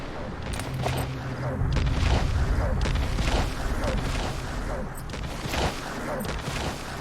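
Rapid gunfire and heavy explosions in Metal Gear Solid V: The Phantom Pain rattle and boom continuously, with dense repeated bursts and deep rumbling impacts building and fading over several seconds, loud and close.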